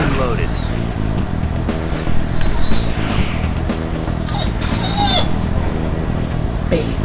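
A female dog whimpers and cries near a door, sensing another dog outside, with thin high whines and yips rising over a busy background of music and sound effects.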